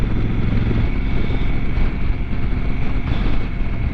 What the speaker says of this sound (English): you can instantly hear the revs go up, and that deeper tone to the exhaust